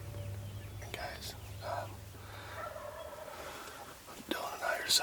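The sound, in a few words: wild turkeys gobbling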